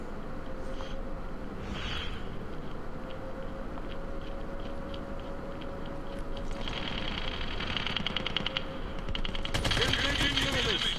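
Rapid automatic fire from a legendary AK rifle in the mobile game Squads, a steady rattling stream of shots with bursts growing louder near the end, under a constant background hum.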